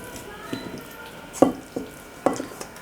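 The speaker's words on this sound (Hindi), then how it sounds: "और स्पैचुला की मदद से अच्छे से मिक्स कर लेंगे।" A spatula stirs beaten eggs with cooked potatoes and onions in a pan, giving a few scraping, clicking strokes against a low steady sizzle, fairly close and without talk.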